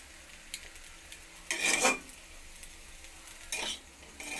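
A spatula scrapes through frying potato and brinjal in a wok, two clear stirring strokes over a soft continuous sizzle, close up and without talk.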